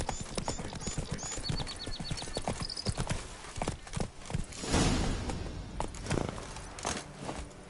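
A horse sets off at a trot after a rider's command, with steady clip-clop hoofbeats, a brief whinny and some faint movement noise, close and fairly loud with no talk.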